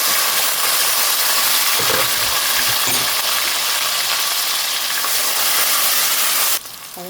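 Tomato and green onion hit a hot pan in a home Gujarati kitchen, giving a steady, loud broadband sizzle that runs unbroken for several seconds and then drops away abruptly near the end, with a couple of faint clicks and no talking.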